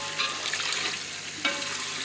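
A besan and lassi mixture poured into hot kadhi masala in a pan, a continuous loud sizzle with brief splashy bursts as the liquid hits and gets stirred, close by and alone.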